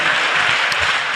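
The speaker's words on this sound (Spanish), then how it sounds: "Denle una ofrenda de palmas al Señor con todo su corazón." A church congregation gives sustained applause for the Lord during a Spanish-language sermon, dense and steady clapping filling the short stretch with no talk over it.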